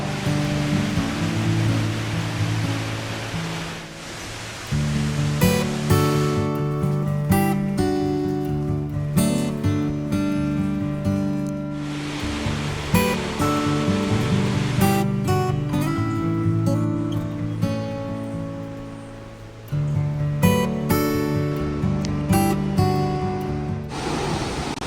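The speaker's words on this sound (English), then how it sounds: "that's the first glimpse of the waterfall" The Catarata del Toro waterfall in Costa Rica roars as a steady broadband rush, heard from a viewpoint. Wind buffets the microphone and a few voices exclaim over it.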